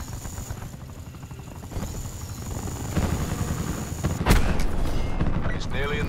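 An attack chopper helicopter roars in Call of Duty Black Ops 4 online team deathmatch, a steady rotor drone with a sharp boom partway through, under game announcer voice lines and background gunfire.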